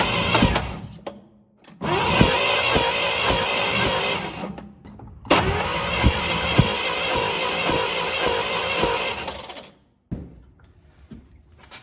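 The starter on a 1954 Chevy truck cranks the engine in three long bursts, each a rapid, rhythmic churning that grinds on for several seconds without catching, with short pauses between attempts.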